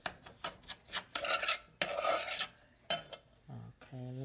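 Spoon stirring a homemade peach juice mixture for a peach cobbler cheesecake, a run of close scraping and clinking strokes against the bowl, with a few sharper knocks near the end.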